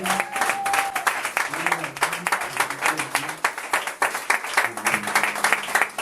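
A church congregation claps and cheers during a French-language Sunday worship service, a steady wash of applause and raised voices filling the room at close range for the whole stretch.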